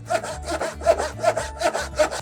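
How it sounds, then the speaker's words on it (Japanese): A freshly sharpened Japanese hand saw cuts through wood in a rhythmic series of about six rasping back-and-forth strokes, close and clear with no talking. "まずノコギリから使ってみましょう。"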